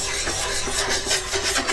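Pitted drawknife being flattened by hand on a sharpening stone up to 1200 grit, a quick run of soft rhythmic scraping strokes, close and moderately quiet.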